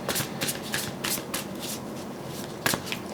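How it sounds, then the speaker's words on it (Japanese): Tarot cards being shuffled by hand in quick, crisp riffling bursts with a few sharper snaps, close and moderately quiet, with no talk. "ちょっと最後にもう一枚引いてみますね"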